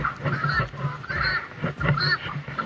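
Guinea fowl call nearby in harsh, repeated honking cries, several bursts in quick succession on a farm in the morning.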